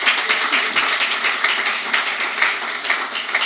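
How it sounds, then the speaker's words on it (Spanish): A church congregation applauds during a Sunday service, with dense continuous clapping that fills the space, loud and close throughout without talk over it. "dele un aplauso al Señor en esta hora"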